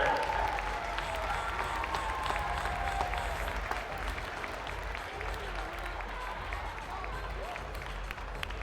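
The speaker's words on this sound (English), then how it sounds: "How about a big round of applause?" Round of applause after a 2024 boys B Region 4 basketball championship, a steady wash of clapping in a gym with crowd murmur underneath, easing slightly after the first few seconds.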